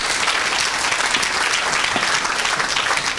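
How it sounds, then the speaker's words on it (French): Church audience at a French-English preaching service erupting in loud, sustained applause and cheering for Jesus Christ, a dense even wash of clapping with no spoken words. "Est-ce qu'on peut acclamer pour Jésus-Christ?"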